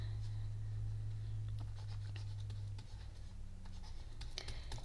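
Pen scratching across paper close up, soft irregular strokes over a low steady hum, with no talk.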